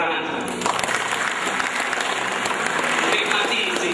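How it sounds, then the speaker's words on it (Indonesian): A seminar audience at a motivational talk on positive thinking claps together, producing dense, even applause that runs loud and unbroken for several seconds. "Kita tepuk tangan."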